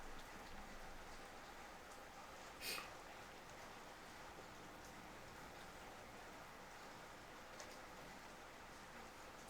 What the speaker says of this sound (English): That's the rain. It's so fucking loud.